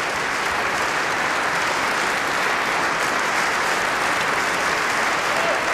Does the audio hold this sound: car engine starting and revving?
no